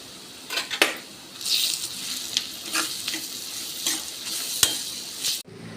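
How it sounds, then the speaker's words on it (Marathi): An onion and coconut masala being sautéed in a pan, sizzling loudly and continuously with repeated spatula scrapes and clinks against the metal. The sound stays close and busy before cutting off abruptly. "कांदा खोबऱ्याचा मसाला आता आपण हे छान परतून घेऊया"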